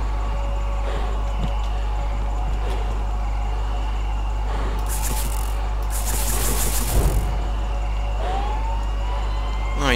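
Police car siren in the Friday the 13th video game, a wailing tone rising over a constant low engine hum, with a brief bright burst midway and faint background game sounds.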